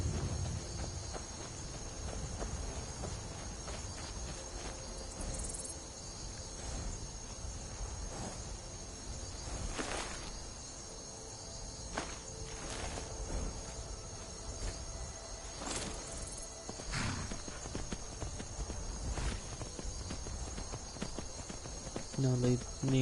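Horse hooves clip-clop at a steady walking pace in the video game Skyrim, faint and mid-distance, over a constant bed of chirping insects and wind, with a few louder thuds scattered through.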